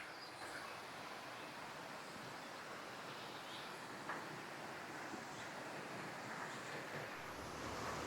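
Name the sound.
lower falls waterfall of Eas Mor, Isle of Arran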